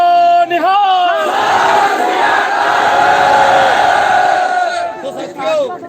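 A crowd at a protest answers the Sikh jakara battle cry with a loud, unified roar, rising from a single leading shout into a long massed cheer that fades out near the end.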